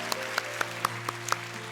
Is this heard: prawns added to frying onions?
no